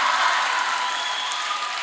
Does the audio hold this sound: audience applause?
yes